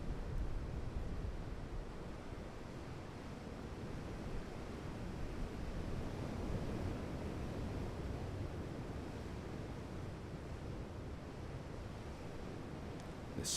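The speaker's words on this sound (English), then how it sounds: "Some birds and waves." Steady, wild sea surf breaks against a rocky Newfoundland coastline amid drifting icebergs, a continuous broadband wash of waves with wind buffeting the microphone and no voices.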